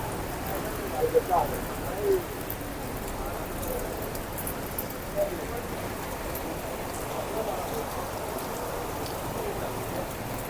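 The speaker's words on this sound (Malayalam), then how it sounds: "ഇന്നലെ രാവിലെ മുതലേ ശക്തമായ മഴയാണ്" Steady heavy monsoon rain in hilly Kerala hisses continuously, with a few faint louder spots near the start, even and unbroken throughout.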